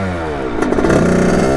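A Kawasaki KX80 big-bore dirt bike engine bogs low and rough for a moment, then climbs into a loud, rising rev, close by and alone.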